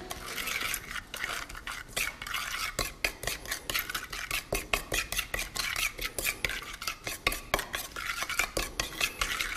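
Spoon stirs a seasoning mix with sesame oil in a bowl, making rapid, continuous scraping and clinking close by that grows more rhythmic toward the end, with no voices.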